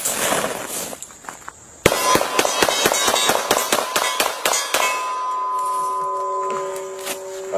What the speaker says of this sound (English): Let's burn one more magazine for good measure.